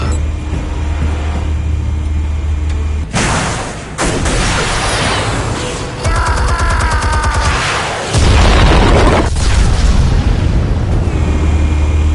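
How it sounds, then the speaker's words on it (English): Explosives detonate in the Batman Telltale Series game: heavy, loud booming blasts with rumbling debris, a burst near three seconds and another deep blast around eight seconds, over continuous low roar. "Explosives armed. Fire when ready."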